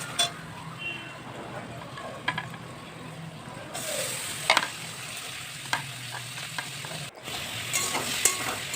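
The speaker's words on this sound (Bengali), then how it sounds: "তো টমেটো দিয়ে আমি আবারও ভালো করে নাড়িয়ে নেব।" Chopped tomatoes fry in a pan during paneer cooking, giving a steady sizzle under repeated scraping strokes of a spoon stirring them, with someone speaking over the cooking.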